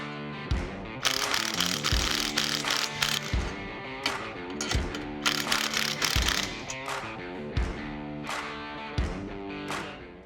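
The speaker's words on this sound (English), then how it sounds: "When tightening those U-bolts, you want to make sure that you don't tighten one side too much" A ratchet clicks in quick bursts while U-bolts are tightened on an AMC Javelin. The strokes come close and repeated, with short pauses between them.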